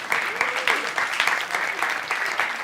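Audience applause at a Starknet community update talk, a steady wash of many hands clapping across the whole stretch, fairly loud and continuous with no voice on top.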